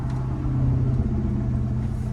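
A 1968 Porsche 912 Targa in Irish Green drones steadily on the highway, its engine giving a constant low rumble close up under road noise, with no talking.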